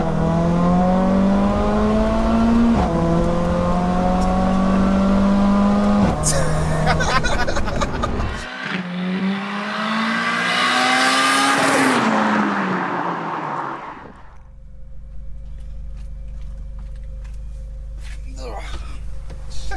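A 630bhp big-turbo Mercedes A45 AMG with a screamer pipe revs hard through rising gear pulls, its loud engine note climbing and dropping at each shift before cutting off, with people talking inside the car.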